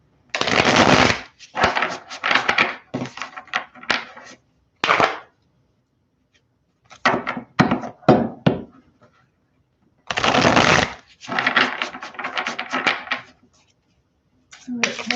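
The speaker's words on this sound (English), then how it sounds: "I'll get a couple traditional shuffles for Capricorn." Tarot cards get several traditional riffle shuffles, each a close, crisp burst of rapid flapping lasting about a second, in separate clusters with short silent gaps between them.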